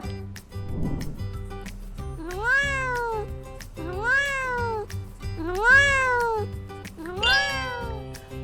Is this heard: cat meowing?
yes